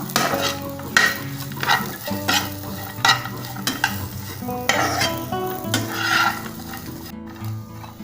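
Grated coconut sautéing in a pan for curry leaf thuvaiyal, with loud sizzling and frying and repeated scraping stirs of a spoon against the pan, close and steady throughout, no voices.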